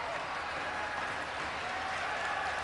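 A crowd applauds steadily at a men's 4x100 freestyle relay swimming event at the 2011 SEA Games in Indonesia, with dense, even clapping filling the arena throughout.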